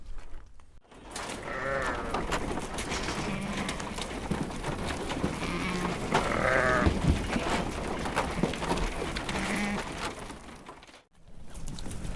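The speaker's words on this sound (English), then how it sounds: "So we're going to let the sheep out now for some meal." Sheep bleat repeatedly as they are let out of a farm shed, several overlapping calls near and far over shuffling and movement noise, continuing steadily throughout.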